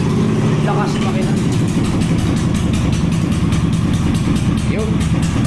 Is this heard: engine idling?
yes